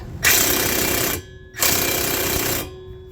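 An impact wrench tightens brake bolts on a Honda CR-V during a front brake and rotor job, giving two loud, close, rattling bursts of about a second each with a short pause between them.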